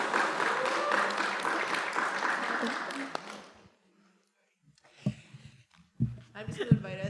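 A congregation applauding at a Kabbalat Shabbat service, loud dense clapping for about three seconds that fades to silence, followed by a voice speaking.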